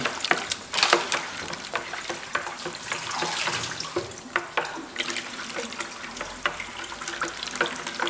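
Tap water runs steadily into a sink during home colour film developing, a continuous splashing hiss with small irregular bursts, close and fairly loud with no talk.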